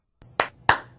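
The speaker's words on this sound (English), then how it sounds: "Clap on, clap off" Two sharp hand claps switching a Clapper sound-activated light switch, spaced about a third of a second apart, close and crisp after a faint rustle.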